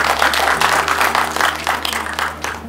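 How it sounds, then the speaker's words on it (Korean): An indoor audience claps steadily and loudly at a guest introduction during a Korean residents' association inauguration ceremony, a dense, continuous patter of many hands with no talk over it. "한 분 한 분 소개해 올릴 때마다 큰 박수를 부탁드립니다."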